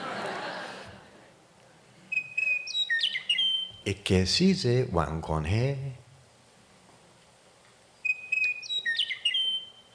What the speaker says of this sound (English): let's listen to that bird